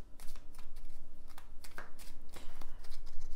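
Tarot cards being shuffled by hand, a steady run of quick riffling flutters and soft slaps that keeps going close by with no talking.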